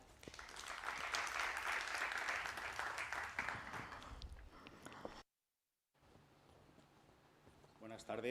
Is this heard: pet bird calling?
no